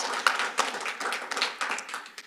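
Audience at an annual waterfront environmental committee meeting clapping for volunteers, a brief burst of scattered applause with uneven sharp claps, fairly close and moderately loud, no talk over it.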